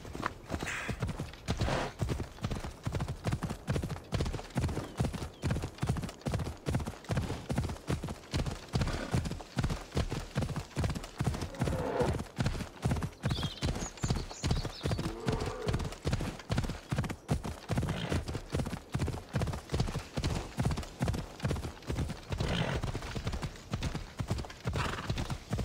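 Horse galloping in the video game Assassin's Creed Odyssey, a fast steady run of hoofbeats clip-clopping close and clear for a long stretch, with a brief neigh and faint voices now and then.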